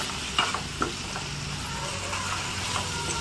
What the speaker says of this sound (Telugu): ఇప్పుడు దీంట్లో కట్ చేసుకుని పెట్టుకున్న టమాటా ముక్కలు వేసుకోవాలి టమాటా ముక్కల్ని కూడా ఒకసారి కలుపుకోవాలి